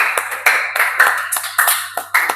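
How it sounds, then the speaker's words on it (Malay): Hands clapping in a classroom during a design and technology lesson, a handful of sharp, fairly loud slaps in an uneven rhythm, heard alone without talk. "Tepuk tangan semua."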